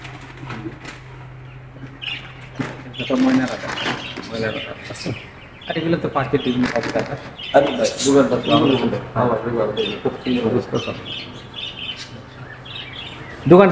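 Small birds chirp and tweet in quick bursts nearby while people talk over them in an indoor pet shop.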